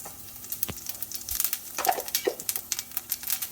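Cumin seeds sizzling in hot oil in a pan, a soft, uneven crackle of small pops and spits, close and fairly quiet, with no talk.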